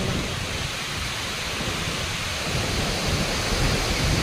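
Heavy monsoon rain roars steadily in Cuttack, Odisha, a dense wash of noise with low rumbling thunder beneath, loud and continuous throughout.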